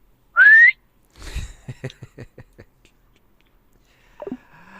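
A person whistles a single clear rising note, loud and close, then a few soft knocks and faint voices follow in an otherwise quiet room.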